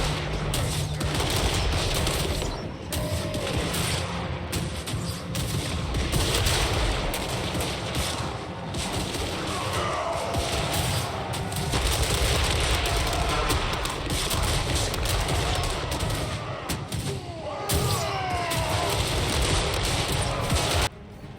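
Towers firing in a Warhammer 3 battle, a dense continuous barrage of rapid shots and crackling impacts, with distant screams and clashing layered over the constant roar.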